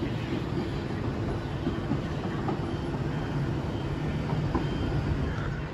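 A Class 375 electric train, unit 375622 bound for Tunbridge, rolls past at Ashford International with a steady low rumble of wheels on rail, moderately distant and continuous, no talk heard.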